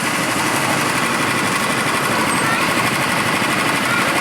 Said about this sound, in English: They're gasoline powered engines